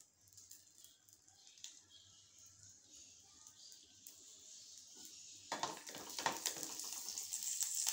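Urad dal and mustard seeds sizzle and pop in hot oil in a pan, a soft steady crackle that thickens and grows louder with sharper spatters toward the end.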